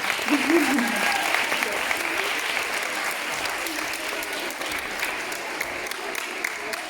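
Audience applause fills a new school theater at a student TED-Ed Club event, a continuous, even clapping with a voice briefly heard over it at the start.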